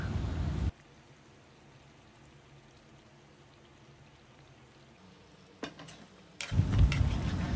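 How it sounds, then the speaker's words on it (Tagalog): Bicol Express with a second pour of Coco Mama coconut milk is stirred in a pan: a brief burst of scraping and sizzling, a long quiet stretch, then louder, busier stirring near the end. "Haluy lang natin ulit na maigi."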